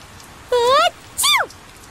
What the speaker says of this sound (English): Tell us the details after we find shelter from the rain